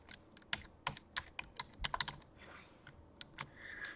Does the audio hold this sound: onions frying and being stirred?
no